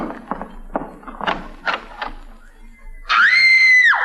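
A woman in a radio drama lets out a sudden shrill, sustained scream near the end, after a run of short knocks and bumps in an otherwise quiet room.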